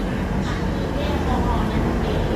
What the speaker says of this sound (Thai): รถไฟขบวน 135 เป็นรถเร็วนะครับ